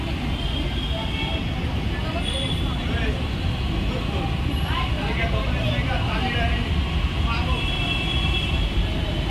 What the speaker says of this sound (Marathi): मेट्रो आली काही.